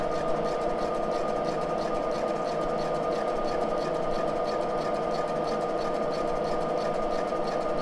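A Moore jig borer machining vintage Harley Davidson engine crankcases, giving a steady, continuous whirring hum with a faint rapid mechanical rhythm, even in level and close, with no speech over it.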